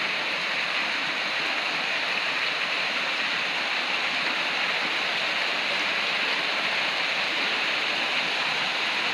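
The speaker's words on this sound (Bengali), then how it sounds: "দোকানে বসে দিয়েছি প্রচুর বৃষ্টি বৃষ্টি কোনো কম না অনেক বৃষ্টি হইতে আছে দেখেন" A downpour of heavy rain lashes the area around a shop, producing an unbroken, dense, rushing hiss that stays loud and steady from start to finish without any talking.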